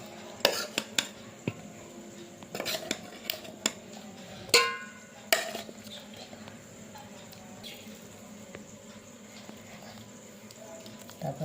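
Chicken pieces go into a biryani pot with potatoes: scattered clinks and scrapes of a spoon against the pot, several sharp knocks in the first half, then quieter stirring with faint background noise.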